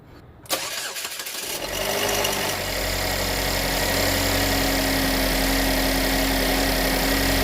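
A car engine cranks and catches with a sharp start, then settles into a steady, continuous idle hum that carries on alone.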